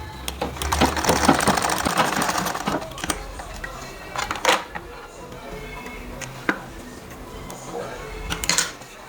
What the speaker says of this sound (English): first I'm going to sew it by 1 inch